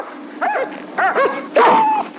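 Several dogs in a 1980 French-dubbed fairy-tale film, "Douze Mois", let out short barks and high whimpering yelps in quick bursts, close and clear against a quiet background, the last cry longest and loudest.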